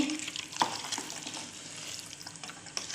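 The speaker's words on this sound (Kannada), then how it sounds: "ಚಿಕನ್ನ ಮಿಕ್ಸ್ ಮಾಡಿ ಮಸಾಲೆಯಲ್ಲಿ ನಾನು ಬೇಯಲಿಕ್ಕೆ ಇಡ್ತಿದ್ದೀನಿ" Chicken is stirred into masala in a pan while cooking for ghee rice, giving a quiet, steady sizzle with soft scraping and a few louder stirring knocks, with no speech.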